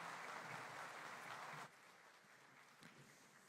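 An audience claps at a commemorative ceremony for the June 10 democracy movement. Dense applause fills the first moments, then drops sharply to scattered, fading claps.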